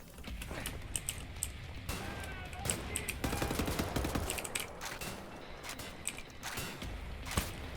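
Enemy gunfire in Wolfenstein: The New Order, rapid sharp shots rattling steadily throughout at fairly low level, like a sustained firefight.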